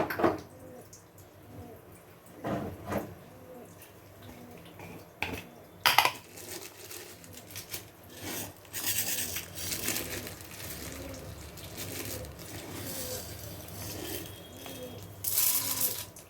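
A small amount of mustard seeds and urad dal fry in a kadai, giving a steady crackle and light rattling with scattered sharp pops at moderate, close level.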